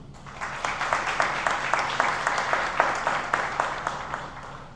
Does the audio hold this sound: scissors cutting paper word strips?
no